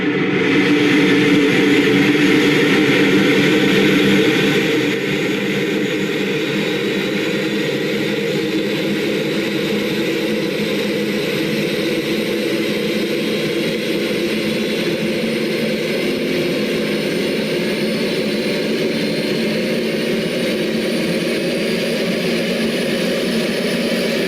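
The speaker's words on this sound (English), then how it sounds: "Let's come over here to the engine start sequence. Engine 3." Engine three of an Airbus airliner spooling up during its start sequence, a steady rising jet whine and roar with a broad rushing hiss that holds loud and even throughout.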